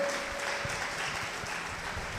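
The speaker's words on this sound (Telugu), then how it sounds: "గట్టిగా చప్పట్లు కొట్టండి." Church congregation clapping together during a sermon, a steady dense patter of applause filling the room throughout at moderate level.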